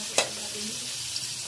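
Onion sautés in a hot pan with a soft, steady sizzle and one sharp clink of a utensil near the start, all close and fairly quiet.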